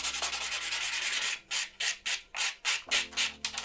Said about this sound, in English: go in with a little buffing block.